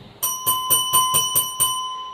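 A bright bicycle-style bell rings about seven times in quick, even succession as a subscribe-notification sound effect, clear and close with no other sound.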